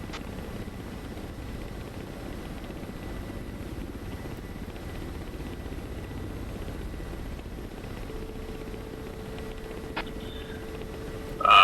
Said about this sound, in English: Dragon Flight 2 times Ka-50 is approaching from the west